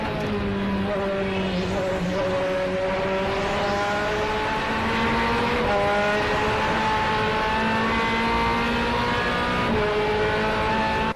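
Onboard sound of an FIA GT race car at speed on the very fast Monza circuit, its loud engine winding up through repeated gear changes in a steady, continuous roar with no voices.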